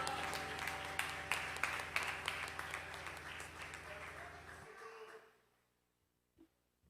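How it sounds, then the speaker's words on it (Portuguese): A church congregation claps and cheers in applause praising Jesus, a dense crowd sound with scattered sharp claps that fades out after about five seconds, leaving near silence with a faint knock or two. "aplauda o nosso Jesus maravilhoso"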